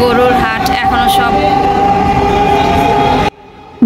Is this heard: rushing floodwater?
no